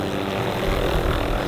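A helicopter in flight during autorotation practice gives a steady, loud rotor and engine drone that holds unbroken throughout.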